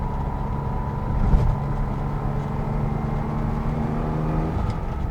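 A restomod Datsun 280Z cruises with a steady, droning exhaust note from inside the car and a brief swell of throttle just past the first second, with no one talking.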